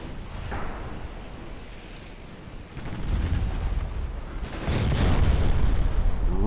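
Heavy 10-inch naval guns firing in a dreadnought-era naval strategy game, deep booming blasts rolling under a dense low rumble that swells louder toward the end.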